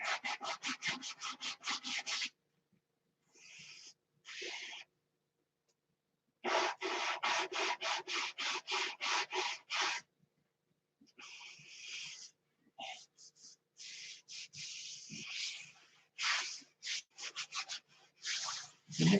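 Hand sanding a blocker coat makes rhythmic rasping strokes in fast repeated runs, broken by pauses and then resuming, close and steady with no voices.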